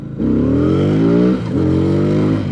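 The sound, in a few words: motorcycle engine revving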